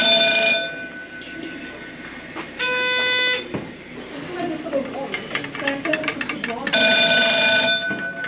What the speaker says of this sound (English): I accidentally touched the glass over there and that alarm went off